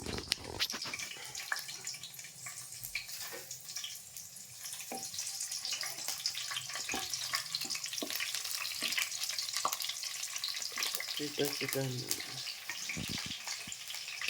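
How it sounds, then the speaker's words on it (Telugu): Cut green chillies hit hot oil in a pan and set off a steady, close sizzle that crackles on without pause, with faint clinks of stirring along the way. "ఇప్పుడు ఆయిల్ అనేది బాగా వేడెక్కింది. తర్వాత మనం కట్ చేసిన పచ్చిమిర్చి వేస్తున్నాను."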